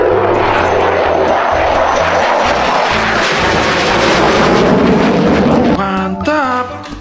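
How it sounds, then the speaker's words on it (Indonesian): Toy super jet airplane giving off a loud, steady roaring engine drone that stays constant for several seconds, then breaks into a warbling tonal sweep near the end. "ini ada super jet"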